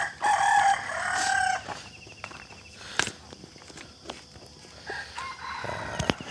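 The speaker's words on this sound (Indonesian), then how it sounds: "tak berhenti bunyi ayam ah" A rooster crows loudly and close by early in the morning while eggplant seedlings are moved into polybags, a long cackling call followed by scattered clucks, soft footsteps and light rustling.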